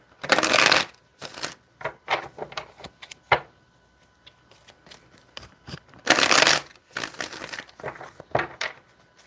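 Tarot cards being shuffled in quick riffling bursts, with softer taps and handling noises between the shuffles, close by.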